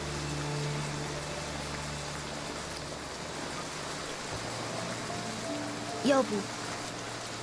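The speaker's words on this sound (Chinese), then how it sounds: "下雨了，不管你要去哪儿，等雨停了再走吧。" Steady rain pours down in an even, unbroken hiss, with a voice speaking briefly over it.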